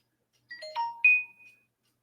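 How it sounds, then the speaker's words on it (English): A phone chimes with a run of short notification tones, bright rising electronic pings stacked close together, then a longer sustained ding fading out, heard alone in a quiet room. "Why is my phone blowing up?"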